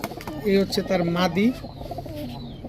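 A deep-coloured Chuya Chandan racing pigeon pair cooing up close, a few throaty rolling coos over a couple of seconds while someone speaks alongside.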